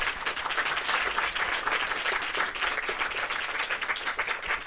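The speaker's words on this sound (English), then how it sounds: "let's give our panelists one more round of applause" A conference audience gives the panelists a round of applause, continuous dense clapping from a crowd, moderately loud and steady throughout with no talk over it.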